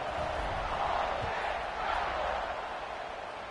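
A stadium crowd at a football game keeps up a steady, dense roar for the whole stretch, swelling slightly in the middle and easing toward the end.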